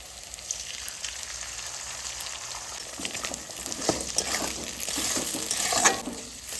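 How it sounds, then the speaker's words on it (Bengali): Steady sizzling of an egg frying in hot oil, growing busier midway with scraping and stirring sounds close by. "এবারে আমি ডিমটা ঢেলে দেবো"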